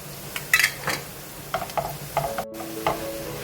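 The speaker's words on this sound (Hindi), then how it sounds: "मसाला हम इसके साथ एंटर कर देंगे ताकि ये भी साथ साथ फ्राई हो जाए और ज़ीरा भी और प्याज भी रेडी हो जाएगी" Onion, cumin and garam masala fry in a pan, a soft sizzle broken by several scraping stirs of a spoon against the metal, close and uneven in rhythm.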